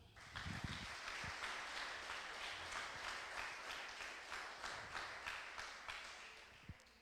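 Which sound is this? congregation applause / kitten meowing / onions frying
congregation applause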